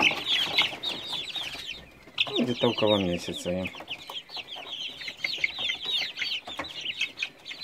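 A crowd of young chicks peeping and chirping nonstop, close by, while someone talks briefly partway through.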